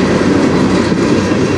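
CN freight train with a single locomotive passing on the Strathroy Subdivision, a loud, steady close rumble and rolling roar of wheels on rail with no break, heard alone.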